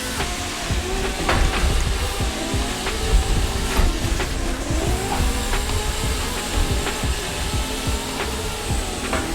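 A drift car in the Sportsland Sugo racing sim, its engine held at full throttle with a constant loud roar and shifting whine, plus scattered clicks and tyre noise, continuous and without talk.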